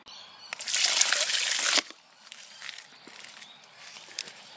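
Water drains out onto the ground in a backyard with a short, loud gushing burst, then fades to faint trickles and small splashes.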